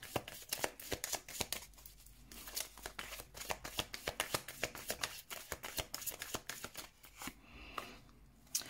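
Tarot cards being shuffled by hand for a reading, a close, rapid run of papery riffles and soft slaps in uneven bursts, with no talking over them.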